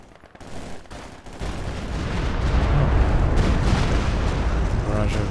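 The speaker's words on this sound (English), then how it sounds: "Barrage over here." Howitzer artillery barrage pounding a winter battlefield around Rzhev in Company of Heroes 2, a 3v3 match: a dense, continuous roar of overlapping blasts and rumble that swells after a quieter start and stays heavy to the end.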